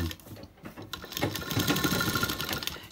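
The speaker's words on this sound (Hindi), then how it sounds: "इस तरह से आप पैड पर राउंड सिलाई लगा सकते हैं।" A sewing machine stitches a round seam on a blouse pad, a close, steady, rapid mechanical chatter building after a brief start and running continuously to the end.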